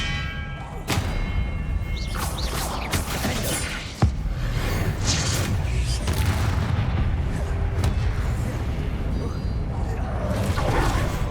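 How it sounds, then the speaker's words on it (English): Combat spell effects from Hogwarts Legacy, including the disarming spell Expelliarmus: repeated booms and thuds, with one sharp impact, over dense game noise while a voice talks throughout. "Expelliarmus!"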